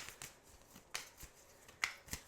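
Tarot cards being shuffled by hand to draw a single card: soft, close riffles and quick papery flicks in a few short bursts, in a quiet room with no talking.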